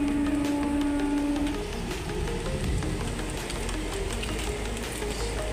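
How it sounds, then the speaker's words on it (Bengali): Steady rain falls outdoors as a soft, continuous hiss at moderate distance; a low background hum runs beneath it, with no distinct thunder audible. "দেখতে পাচ্ছ বৃষ্টি হচ্ছে, মেঘও ডাকছে।"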